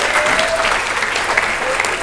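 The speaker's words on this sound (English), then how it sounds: "Give them a big round of applause." Applause from the audience at a 2019 Year 12 graduation ceremony at Cairns State High School, steady dense clapping filling the hall for a couple of seconds with a faint crowd murmur beneath.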